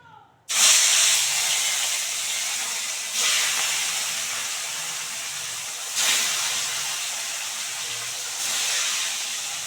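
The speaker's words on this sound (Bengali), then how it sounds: "এবার মাছগুলো দিয়ে দেবো একটা একটা করে।" Fish pieces dropped one by one into very hot white oil in a wok sizzle loudly, a sharp hiss flaring at the start and swelling again with each new piece, steady and close throughout.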